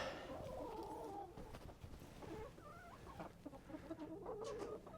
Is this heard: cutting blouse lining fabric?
no